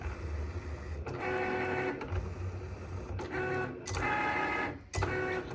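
A label printer runs in steady mechanical passes, whirring and pausing briefly between feeds, close and moderately quiet.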